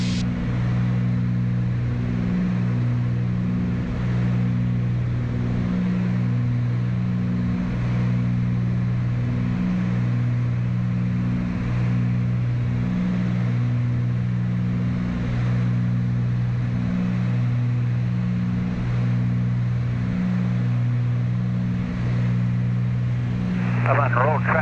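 Twin piston engines of a Cessna 310 drone steadily in flight, a loud, close cabin hum with a pulsing, beating tone that holds for the whole stretch while people talk over it.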